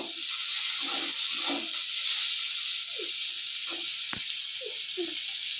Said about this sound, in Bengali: দেখো আমি পেঁয়াজগুলো এখন আমি পুরো একটু লাল লাল করে ভেজে নেব।